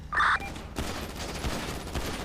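A burst of gunfire from the video game GTA V, a quick volley of shots followed by sustained noisy clatter and rumble.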